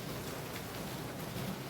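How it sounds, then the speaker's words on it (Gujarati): Heavy, continuous monsoon rain in Ahmedabad, falling for hours as a steady, even wash of noise with no breaks and no voices. "30 કલાકથી એક ધારો વરસાદ ચાલુ છે."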